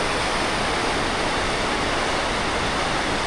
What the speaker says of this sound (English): Beautiful waterfall though.